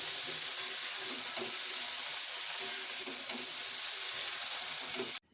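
Cauliflower florets fry in hot oil in a pan, giving a steady, dense sizzle and crackle that holds evenly close by before cutting off abruptly at the end.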